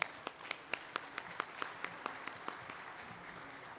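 Applause greets speakers at the inaugural session of the Windergy India 2024 wind energy conference, with distinct individual claps standing out over a faint, sparse crowd wash.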